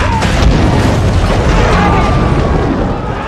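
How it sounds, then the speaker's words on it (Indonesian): A gas cylinder explosion in an action film gives one loud, sustained blast that roars across the whole range for about three seconds, then begins to fade near the end. "Selanjutnya, Travis meledakkan kedua tabung gas itu yang membuat ledakan cukup besar"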